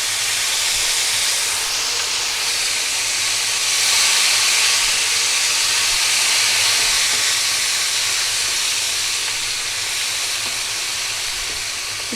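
Garlic and ginger fry in hot oil with bitter gourd and onion, giving a steady, loud, close hiss of sizzling that swells slightly midway and carries on without any talk.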